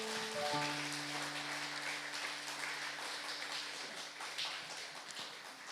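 Congregation applause at a Sunday church service after a certificate presentation, a steady, fairly loud wash of clapping lasting several seconds over sustained held instrument tones.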